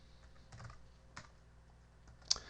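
Quiet, close typing on a computer keyboard: a handful of irregular key clicks spread out with short pauses, one sharper tap near the end, no talking.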